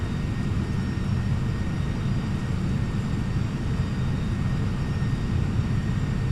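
Steady broadband jet engine roar of an MD-11 cargo airliner in a flight simulator on approach, a continuous loud drone with faint tonal whine above it and no talk.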